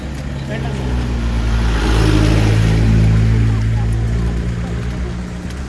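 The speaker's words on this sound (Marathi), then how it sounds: "आली आहे परत एक गाडी" A car engine approaches and passes nearby in a queue of traffic, its low rumble swelling to a peak midway then fading, with traffic noise around.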